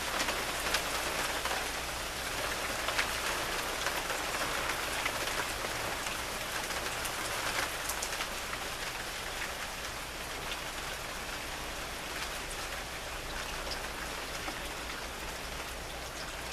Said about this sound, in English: Let's listen to the rain a little bit here.